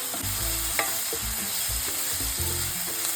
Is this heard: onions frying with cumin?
yes